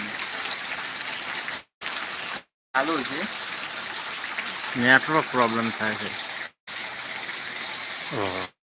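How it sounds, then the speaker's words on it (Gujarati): Heavy rain pours down as a steady, broadband hiss that fills the whole scene, cut by a few brief dropouts, while people talk over it. "વરસાદ તો થઈ રહ્યો"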